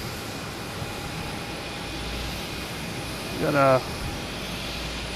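A Lufthansa 747 jet on runway 15 right at Boston Logan Airport gives off a steady, distant broadband roar that holds for the whole stretch, with a short spoken word near the end.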